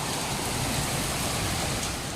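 Heavy rain pours down in Jhargram, a dense, unbroken roar of water that stays loud and steady throughout the short stretch, with no speech.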